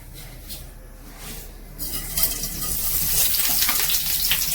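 Mustard seeds and urad dal hit hot oil and burst into a loud, rising crackling sizzle after a quieter opening, close and steady with no talk.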